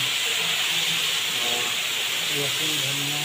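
Garlic sizzles in hot oil in a large kadhai at a roadside fish-curry stall, a loud, continuous frying hiss with a voice faintly underneath.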